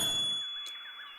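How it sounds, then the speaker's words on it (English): A single bright bell ding rings out and fades gently into silence, clear and close in a quiet setting. "Can you hear the bell ringing?"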